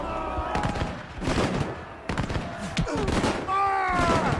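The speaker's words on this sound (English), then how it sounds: "As they approach the British line, the first shots are exchanged." Musket volleys at the Battle of Waterloo, with the Imperial Guard approaching the British line: scattered crackling gunfire and bursts of volleys, moderately loud, mixed with shouts and other battle noise.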